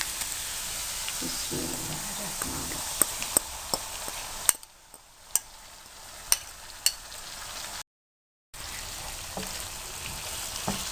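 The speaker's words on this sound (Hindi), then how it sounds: "अच्छी तरह से इसको मैंने भून लिया है।" Potatoes coated in yogurt fry in a pan with a steady, close sizzle, while a spoon stirs and taps the pan in sharp, scattered clicks; one brief gap of silence, no talking.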